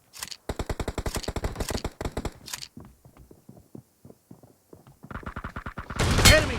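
Rapid bursts of machine gun fire in a shooting video game, loud and close, with several sustained volleys separated by short pauses and a final burst near the end.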